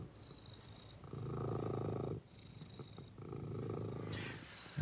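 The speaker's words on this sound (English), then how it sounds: "Listen to that cat purr." A pet cat named Angel purring close up, a steady low rumble in two long sustained bursts with a short pause between, no talking.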